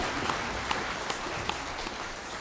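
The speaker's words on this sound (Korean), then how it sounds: "영광의 박수를 하나님께 드리겠습니다." Church congregation applauding during a Sunday worship service at a Korean church, a soft, steady wash of clapping heard from a distance with a few sharper individual claps standing out.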